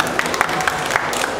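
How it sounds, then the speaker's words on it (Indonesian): An audience at a stand-up comedy competition grand final in Bali applauds in a dense, steady wash of clapping, fairly loud with crowd murmur mixed in. "Tepuk tangan."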